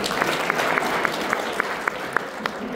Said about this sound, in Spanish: Un aplauso, doctor